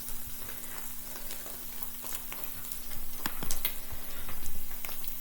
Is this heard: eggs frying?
yes